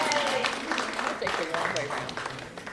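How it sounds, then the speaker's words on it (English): Audience clapping at a senior citizen art show award for a first-place photography winner, a sustained patter of hands mixed with chatter and voices throughout. "You can clap, you can clap."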